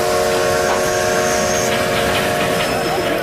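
A vintage steam locomotive on the Darjeeling Himalayan Railway hisses loudly and continuously, with a steady tonal whistle-like drone and bursts of rushing steam close by.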